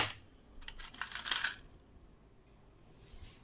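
Commemorative Indian two-rupee coins are handled and dropped, giving a cluster of bright metallic clinks and jingles that swells briefly and then fades to near silence, close and fairly loud, with no voices.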